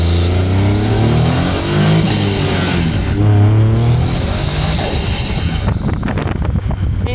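Caterham 170S engine and exhaust heard from an onboard mic while driving, a steady droning note that rises and falls with revs, heavy wind rush over it throughout, loud and close.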